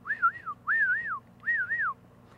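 A person whistles three rising-and-falling warbled notes in a row, imitating a dolphin whistle, clear and close against a quiet low background hum.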